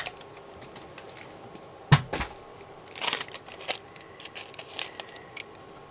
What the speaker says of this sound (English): I'm going to cut away the excess